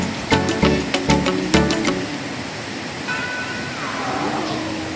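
Steady rushing water roars in the background from Cunca Wulang waterfall in the Flores forest, while a few plucked musical notes ring out at the start and a faint tone follows.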